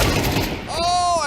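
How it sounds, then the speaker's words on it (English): A flashbang grenade detonates in a first-person shooter video game, a loud close burst filling the clip, followed by a high ringing tone fading out after the blast. "Flashbang."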